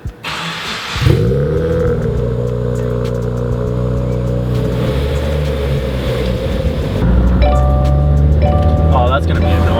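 A Subaru WRX/STI fitted with an AWE Tuning exhaust cranks over and starts, settling into a loud, steady, rumbling idle that stays close to the microphone and gets a little louder near the end.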